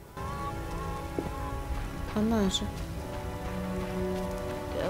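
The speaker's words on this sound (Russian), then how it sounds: "Такого сильного дождя давно не было." Steady heavy rain patters across the scene in The Witcher, a dense wash under a short spoken line and a brief animal-like call.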